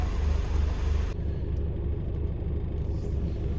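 Inside a moving car, a steady low engine rumble and road noise hold constant throughout, with no voices.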